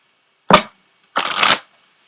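Tarot oracle cards shuffled close up in two quick bursts: a short sharp riffle, a brief pause, then a longer fluttering shuffle, with no talking.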